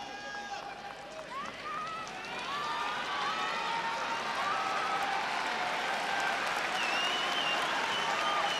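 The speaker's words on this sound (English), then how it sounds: "Great applause here at Saitama Super Arena for Don Fry." Steady applause from a large crowd at Saitama Super Arena during a Pride 34 fight event fills the space, broadband and continuous, with some cheering and whistle-like tones rising above it.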